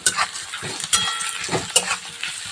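Pre-roasted peanuts with their skins on are stirred into onions frying in oil for kande pohe, a close sizzle punctuated by three or four sharp scraping stirs against the pan.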